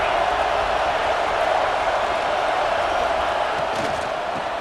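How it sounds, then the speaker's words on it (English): A stadium crowd in the EA Sports College Football 26 video game roars in a loud, steady, unbroken wall of cheering that holds for several seconds. "This crowd, full throat, splitting the eardrums"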